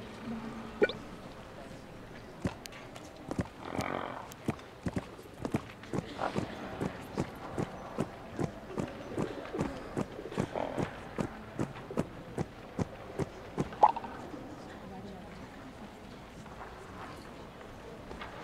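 Horse hooves striking the ground in a steady, even rhythm while riding in the video game My Little Riding Champion, with one louder thud near the end, the beats sounding close and moderate over a low game background.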